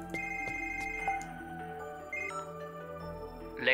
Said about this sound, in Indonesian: Kok tiba-tiba ada telepon?